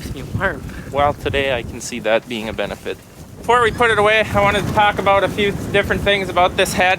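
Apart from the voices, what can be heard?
wind blowing into microphone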